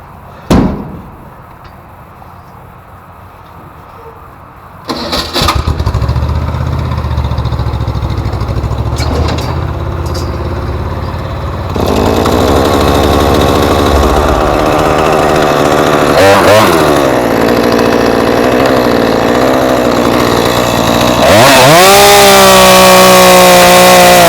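A chainsaw starts up and cuts through wood while clearing a lot for a new garage, the engine roaring loud and close. Its pitch swells and dips as it bites into the wood and revs near the end.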